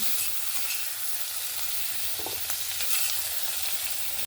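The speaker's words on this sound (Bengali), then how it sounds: "এখানে আমার ক্যাপসিকামটা হালকা ভাজা হয়ে গেছে" Capsicum frying lightly in a kadai produces a dense, even hiss of hot oil that stays steady and close for a few seconds, with a faint stir partway through.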